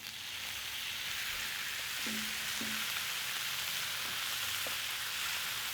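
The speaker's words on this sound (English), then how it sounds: "We're just going to fry everything in the bacon grease." Meat and onions fry in bacon grease with a continuous close sizzle, interrupted by a few faint electronic beeps in the background.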